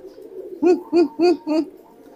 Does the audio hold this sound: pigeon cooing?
yes